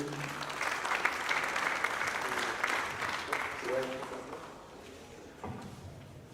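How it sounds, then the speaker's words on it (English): Audience applause at an academic language conference welcoming the Dean of Arts, full and steady at first, then thinning out with a few thuds and faint voices near the end. "A round of applause for the Dean."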